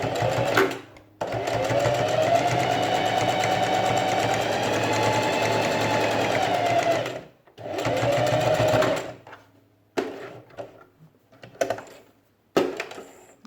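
A sewing machine stitches a fabric face mask and back tacks, running in long continuous bursts with short pauses, then a few quieter clicks and handling sounds at the end.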